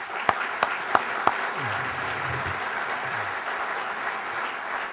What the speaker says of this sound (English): if we could please have a round of applause for all of our winners